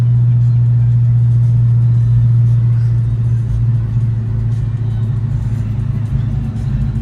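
A 1990 Ford Mustang GT idling smoothly just after starting, a steady low rumble with a constant hum that shifts slightly partway through, close and loud with no talk over it.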